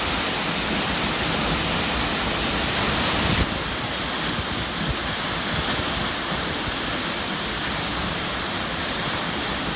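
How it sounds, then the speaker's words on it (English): A waterfall at Salungerfors pours in a steady, loud broadband roar that fills the whole stretch, slightly heavier at first and then continuing unbroken with no voices. "Salungerfors is still an amazing visit, which allows access behind the waterfalls"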